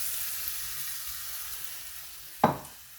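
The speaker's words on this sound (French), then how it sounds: "Il faut mettre le beurre et la farine à fondre." Butter and flour melting in a pan for a béchamel, a soft, steady sizzle with faint background hiss, then a brief louder scrape or splash of stirring near the end.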